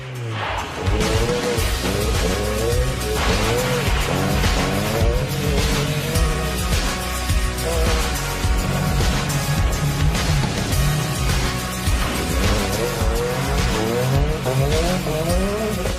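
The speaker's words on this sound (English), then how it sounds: "We'll head up this gravel road a bit." A rally car runs loud and close up a bumpy gravel road, its engine rising and falling through repeated revs and gear changes with tyre noise throughout, continuous for the whole stretch without talk.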